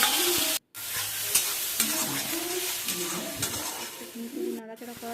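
Ground spice paste fries in hot oil in a wok, crackling and sizzling steadily with stirring scrapes, a short silent gap early on and faint tonal sounds in the background.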